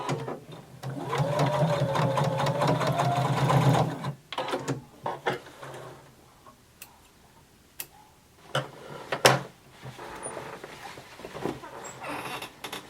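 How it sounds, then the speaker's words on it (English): A sewing machine stitches around a denim skirt waistband at a 5/8 inch seam allowance, running steadily and fairly close for about four seconds before stopping, followed by scattered clicks and handling sounds. "we're going to stitch all the way around"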